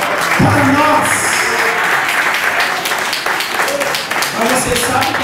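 A church congregation breaks into loud, sustained applause, a dense wash of clapping with scattered voices mixed in throughout.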